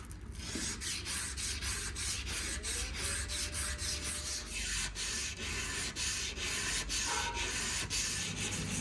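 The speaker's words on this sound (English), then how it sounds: "We throw some water on the blade and use a hard backing block with fine grit sandpaper, manually working down the flats" Fine-grit sandpaper on a hard backing block scrubs a wet forged steel knife blade by hand in steady, rhythmic back-and-forth rasping strokes, close and continuous without speech.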